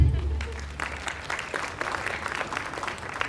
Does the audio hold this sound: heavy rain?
no